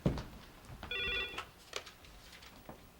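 A telephone bell rings once in a short, trilling burst in an office scene from a 1988 Korean TV drama, faint and slightly distant, with shuffling sounds around it.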